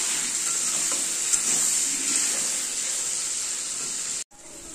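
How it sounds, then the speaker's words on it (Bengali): Potatoes and eggplant frying with turmeric in a pan: a loud, steady hiss of oil and sizzle that continues without a break, then cuts out abruptly for a moment near the end. "হলুদ দিয়ে আলু বেগুনটাকে ভালো করে একটু ভাজা ভাজা করবো।"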